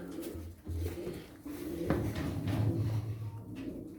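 A caught stray pigeon, a pied blue bird, coos softly in a loft, low repeated murmuring calls close by with faint rustling and shuffling around it.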